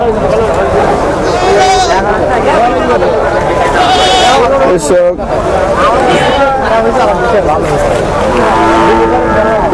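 Goats bleating repeatedly at a busy goat market in Ullapara, Sirajganj, loud and close, over constant crowd chatter and nearby talking voices.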